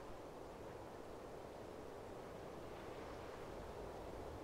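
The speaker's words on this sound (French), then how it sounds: "vous entendez le vent qui danse dans les cimes des palmiers qui bordent la plage" Soft, steady rushing of wind through palm treetops along a beach, a broad even hiss with faint surf-like swells underneath, distant and calm.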